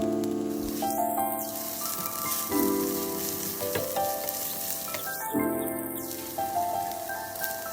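Diced garlic and crushed red pepper frying in a pan, a steady crackling sizzle with a soft hiss throughout, joined by quiet background music and no voices.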